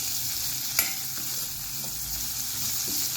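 Sliced dried onion frying in a pot for dhaba-style dal khichdi, giving a steady soft hiss with a sharp clink of a utensil near the start and a few faint knocks afterward.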